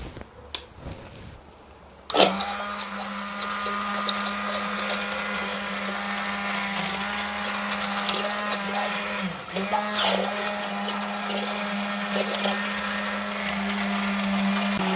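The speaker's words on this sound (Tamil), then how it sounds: "இதை இப்போது நம்ம நல்லா அடிக்கணுங்க இந்த மெஷின் வச்சு" An electric mixer whips frozen homemade moisturising face cream: a loud, steady motor whine starts abruptly after a couple of quiet seconds and runs on close and continuous, with a brief dip midway.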